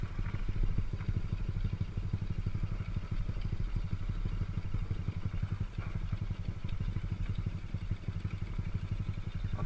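A Yamaha DT200 motorcycle engine runs steadily close to the microphone, a low, even mechanical drone with rattly clatter and no clear revving, holding the same level for the whole stretch.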